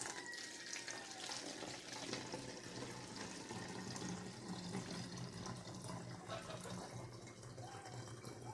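Water runs steadily into a one-liter plastic bottle as a homemade foliar fertilizer mixture is stored, a continuous close splashing fill lasting throughout without pauses.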